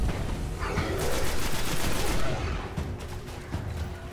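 Rapid bursts of gunfire in the video game Destiny, dense and fairly close, crackling over a steady game background with a brief pause and further shots toward the end.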